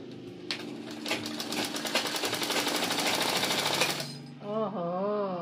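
A sewing machine runs steadily while stitching cloth, giving a fast, even mechanical rattle for several seconds before it stops. A voice speaks briefly afterward.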